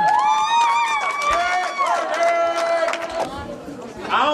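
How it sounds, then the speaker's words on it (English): An audience cheers and shouts for the winner of a Fear Factor eating contest, a dense, loud burst of excited voices that continues throughout. "So let's give a round of applause for our champion."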